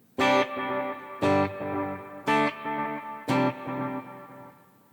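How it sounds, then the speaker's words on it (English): A Line 6 HX Stomp guitar processor adds ping-pong delay to four struck guitar chords, each strong attack followed by rhythmic repeating echoes bouncing at a quick tempo, loud and without talk. "you should hear the delays ping pong a bit more"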